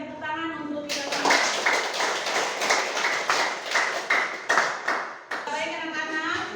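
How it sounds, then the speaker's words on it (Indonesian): A classroom of children clapping together, a dense burst of rapid applause lasting several seconds, preceded and followed by an adult voice speaking. "terima kasih dan tepuk tangan untuk kita semua"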